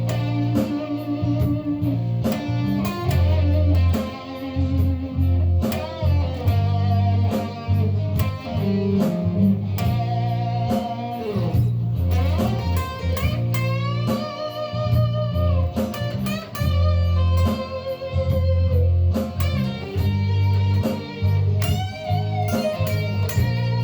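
Electric guitar plays the intro riff of a song, a bluesy phrase with string bends, heard loud and continuous on its own for about twenty-four seconds with no talking.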